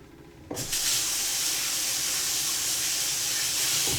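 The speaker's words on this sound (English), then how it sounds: "Wash my hands, dry the hands" Kitchen tap turned on for hand washing, water starting abruptly after a quiet moment and then running in a steady, close hiss.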